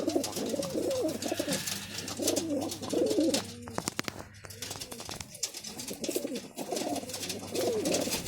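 Pigeons coo in a repeated, rolling series of soft throaty calls, close and clear, pausing briefly midway before resuming over a faint steady hum.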